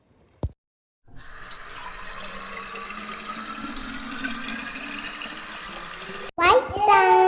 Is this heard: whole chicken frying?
no